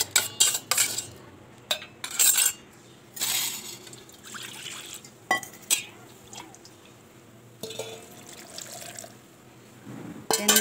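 Water is poured into a grinder jar holding mango and coconut for chutney, with splashes and trickles mixed with clinks of a spoon and utensils, intermittent and close.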